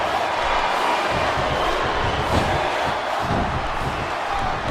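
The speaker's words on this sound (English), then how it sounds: "these WWE fans are fired up" Arena crowd noise from the WWE SmackDown vs Raw 2008 video game during a Hell in a Cell match, a loud continuous roar of cheering fans with occasional thuds and swells.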